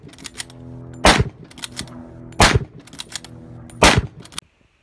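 Mauser K98 bolt-action rifle firing 8mm Mauser rounds: three loud, sharp reports spaced evenly about a second and a half apart, each followed by a ringing echo, with bolt clatter in between.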